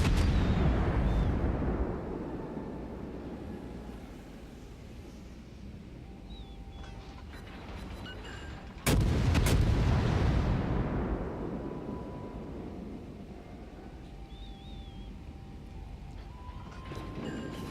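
A cruiser in a naval battle video game fires its guns: one heavy boom at the start and a second sharp blast midway, each trailing off in a long rumbling decay, with no talk.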